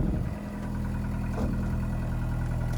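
An overheating car engine idles outdoors with a steady low rumble and even vibration. It sounds close and fairly quiet, with a small knock near the start.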